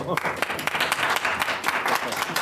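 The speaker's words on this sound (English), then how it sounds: "Shall we give a nice applause?" Audience clapping for a speaker at a talk on Cuba, a steady patter of many hands with a voice speaking over it at times.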